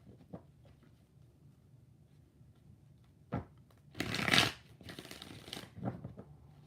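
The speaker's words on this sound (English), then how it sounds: "One more shuffle." Tarot cards are shuffled in short bursts, with a few soft taps and then a louder riffle, all close-up and faint in a quiet room.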